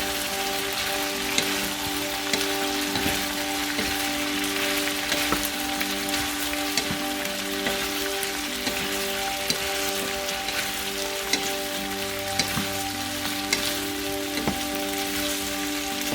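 Cabbage stir-fried with celery and broccoli for chop suey makes a loud, steady hiss like hard rain, with light scraping and clinks from stirring, close and continuous, with no voices.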